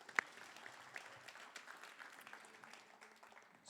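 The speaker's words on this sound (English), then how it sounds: "Give yourselves a round of applause." Audience applause at a community conversation event, a faint, steady patter of many hands clapping that carries on evenly for a few seconds with no voices over it.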